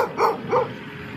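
A protective mother dog with puppies on a street in Nakhon Ratchasima, Thailand, gives two sharp, fairly close barks in quick succession, followed by quieter outdoor background noise.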